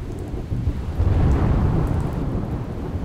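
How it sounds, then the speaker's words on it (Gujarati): Torrential rain lashes Khed area of Porbandar, Gujarat, with thunder rumbling beneath a thick, unbroken roar of falling water; loud, close and sustained, swelling slightly midway, no speech. "પોરબંદરના ખેડ પંથકમાં 19 ઇંચથી વધુ વરસાદ ખાબક્યો"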